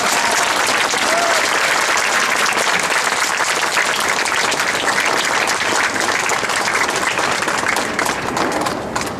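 Sustained audience applause at a San Jose city council meeting, a dense, steady wash of many hands clapping throughout, loud and continuous before easing slightly at the end.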